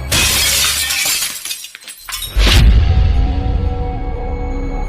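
A glass wall shatters in a horror story, a loud crash of breaking glass with scattering shards followed by a low rumbling boom and lingering tinkling.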